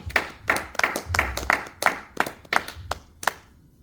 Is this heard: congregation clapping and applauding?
yes